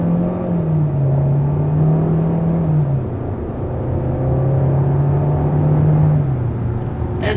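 A 2022 Hyundai Sonata's 1.6-liter turbocharged four-cylinder, rated 180 hp, pulls hard from a standstill, its engine note rising and stepping through gear changes in a steady, close, continuous drone with no talking.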